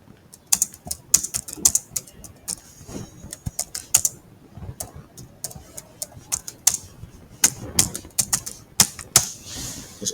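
Typing on a computer keyboard while entering text, with rapid irregular clicks and occasional sharper key strikes close by, continuing steadily and alone throughout.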